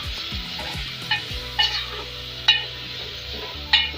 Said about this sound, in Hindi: साथ ही हम इसमें डालेंगे टमाटर और इसको अच्छी तरह थोड़ी सी भुनाई करेंगे इसकी।